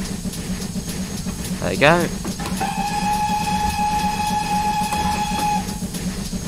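Steam locomotive on the Falmouth Branch in Train Simulator 2022, its steady running rumble overlaid by a long sustained whistle with a rising pitch sweep before it, while a voice speaks briefly.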